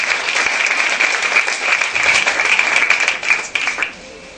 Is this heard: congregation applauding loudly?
yes